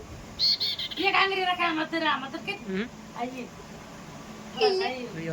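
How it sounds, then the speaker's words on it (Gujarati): Sparrow chirping in a rural village, bright repeated tweets in short bursts, mixed with and partly masked by people talking nearby. "ચકલી બોલે હે"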